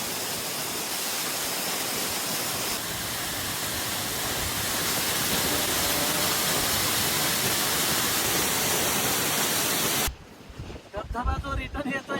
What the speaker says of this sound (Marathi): हे बघा धबधबा असं सरळ आपल्या तोंडावर येऊन राहिला